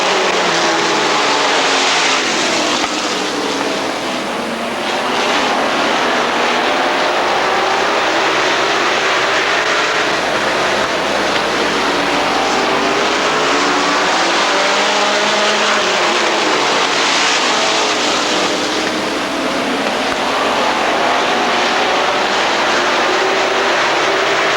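Race cars at a green flag start at Rockford Speedway roar past together in a loud, dense, continuous engine blare, with pitch swelling and fading as the pack passes close by.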